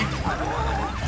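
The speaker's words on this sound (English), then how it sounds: "It's a siren." Siren from Luigi's Mansion 3, a wavering electronic wail sweeping up and down steadily for the whole moment, fairly loud within game audio over low rumbling background.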